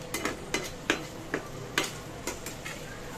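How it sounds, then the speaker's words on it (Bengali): Quiet scraping and light clinks of a spatula stirring gourd peel frying in a pan, repeated at an uneven pace, with a faint sizzle underneath. "এই যে দেখো লাউয়ের খোসা ভাজাটা করে নিচ্ছি"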